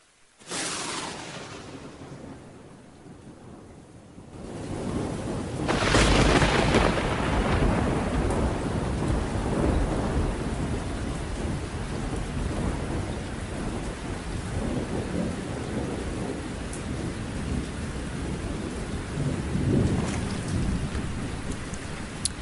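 A heavy thunderstorm: a low thunder rumble builds early, then a loud crack gives way to dense, steady rain pounding a surface, with more rolling thunder beneath the downpour and no voices.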